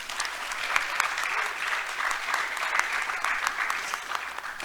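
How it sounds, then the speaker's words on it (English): Audience at a panel discussion on women and the war in Ukraine applauds with steady, close, dense clapping that carries on evenly throughout, with no speech over it. "Please give the warmest applause to the panel"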